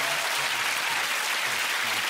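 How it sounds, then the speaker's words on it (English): Studio audience applause at a stand-up comedy club night, steady dense clapping throughout, loud and continuous with no gaps. "Let's have a round of applause"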